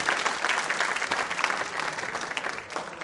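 Loud, sustained applause from a school quiz show audience, dense and steady clapping filling the room for the full three seconds with no voices over it.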